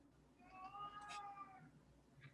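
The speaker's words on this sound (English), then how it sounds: "somebody's cat's hungry" A hungry pet cat meows once in a single drawn-out call, fairly close and clear against a quiet room.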